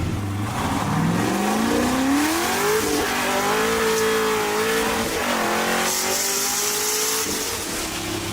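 A car engine revs and accelerates close by, its pitch climbing and holding steady through a loud continuous drive with a brief tire squeal, no voices.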